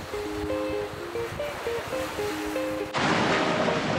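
Gentle surf washes onto a calm Hawaiian beach in a steady, even rush of water noise, with soft tonal sounds over it before the wash suddenly grows louder and brighter near the end.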